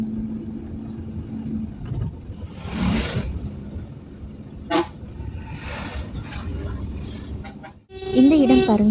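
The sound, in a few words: car horn honking on narrow ghat road to Valparai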